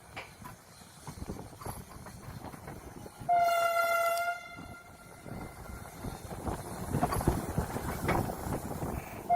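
A Vande Bharat Express train pulls into Shri Mata Vaishno Devi Katra station, its loud horn sounding for about a second amid rumbling wheels and clattering rail noise.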